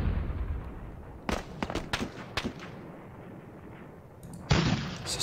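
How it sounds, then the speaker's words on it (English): Anti-tank guns fire in the Panzer Campaigns Stalingrad '42 wargame, a handful of sharp, separate reports spread unevenly across a low rumbling background, followed by a louder burst near the end. "Fires with some of these anti-tank guns."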